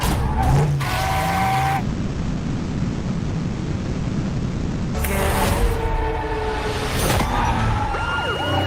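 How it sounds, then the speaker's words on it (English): A movie-trailer car chase roars continuously with engine and road noise, sirens wailing over it, and sharp cut-in effects and bursts near the start and again around the middle and end. "Are we in a car chase?"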